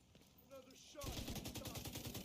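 Rapid automatic gunfire from Tom Clancy's The Division 2 breaks out as a fast burst of close, evenly spaced shots after a quieter moment with faint game voice sounds.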